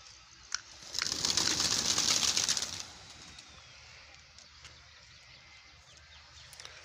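A flock of pigeons, about 80 birds, takes off in a loud burst of flapping wings lasting a couple of seconds, then quieter rustling and faint cooing in the background.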